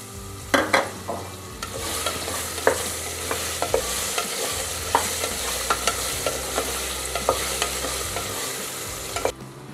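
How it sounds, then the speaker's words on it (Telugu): Potatoes fry in oil with pav bhaji masala and garam masala, a steady close sizzle running throughout with sharp scraping clicks of a spoon stirring in the pan. "అది కొంచెం వేగిన తర్వాత దీంట్లోకి మనం ఆలుగడ్డలు వేద్దాం."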